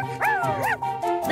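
Cartoon puppies yip and bow-wow in quick, high, rising-and-falling calls, a couple of bright barks close up with tonal music running underneath.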